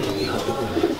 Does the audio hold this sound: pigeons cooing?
yes